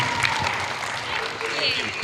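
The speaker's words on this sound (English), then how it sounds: "A big round of applause for yourselves as well." Audience applause at a school award ceremony, a thick wash of clapping with voices mixed in, steady and moderately loud throughout.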